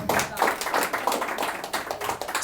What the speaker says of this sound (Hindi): एक बार अनिका मैम के लिए भी ताली बजा दें।